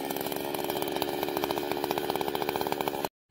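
An engine-powered pit-digging auger drilling holes for mango and coconut planting runs at a loud, steady two-stroke drone with a fast pulsing rhythm, close by, then cuts off abruptly at the end.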